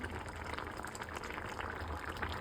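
Goat blood gravy simmering in a pan, a faint continuous bubbling and soft spattering heard up close and alone.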